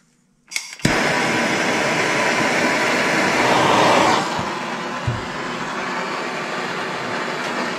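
Aluminum heated around a press-fit bearing on a Corvair 102hp engine: a loud, steady broadband roar starts abruptly and runs without a break, dips slightly partway through, and is marked by a single small clank.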